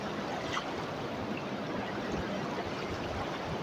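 A river flows with a steady, soft rushing and trickling wash, even and continuous at low volume.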